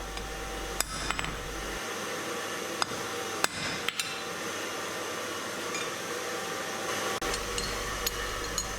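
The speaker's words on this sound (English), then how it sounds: "I'm using a guillotine tool to isolate the jaw." Blacksmith hammer striking a guillotine tool to isolate the jaw of U-box tongs, several sharp metallic blows at irregular intervals over a steady roaring forge or blower hiss, close and loud.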